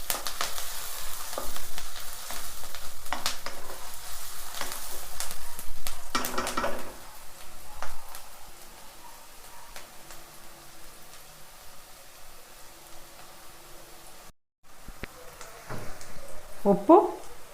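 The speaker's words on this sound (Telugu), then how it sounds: "ఇలా బాగా దోరగా ఉల్లిపాయ వేయించుకోవాలి" Sliced onions fry in an iron pan with a loud, steady sizzle and spatula scrapes, the hiss easing partway through before stirring clatter picks up again near the end.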